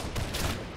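Rifle volley in Holdfast, a musket-era multiplayer battle game: a dense, muffled crackle of massed gunfire rolling on for under a second, loud and unbroken with no voices.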